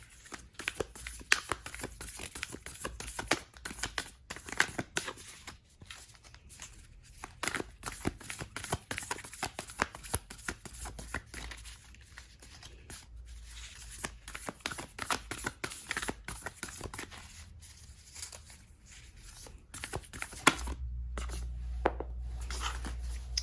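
Tarot cards are shuffled by hand at close range, a long run of crisp, rapid riffling and flicking with brief pauses between bursts, ending in a duller rustle.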